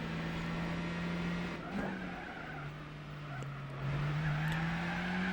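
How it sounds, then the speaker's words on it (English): A turbocharged car in Gran Turismo 4 drones along at steady revs while its front tyres spin and squeal, the engine note dipping and climbing slightly over a few seconds. "shifting back up into 4th gear before the wheel spin kicks in again from the front tyres"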